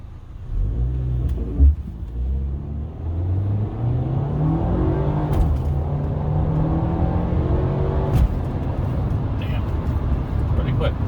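A 2009 Audi A4 2.0T Quattro accelerating hard, heard from inside the car as the engine note climbs through the gears in rising pulls under a steady rumble, with a voice talking over it.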